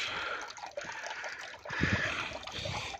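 Water trickles and splashes from the Fonte das Carroceiras stone spring in Galicia, a steady close babble that bubbles up briefly near the middle.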